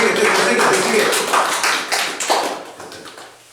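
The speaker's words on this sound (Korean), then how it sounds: "박수 빨리 박수 쳐봐. 세게." A classroom of students claps hard on cue: a dense, loud burst of many hands slapping together close by, gradually thinning and fading toward the end.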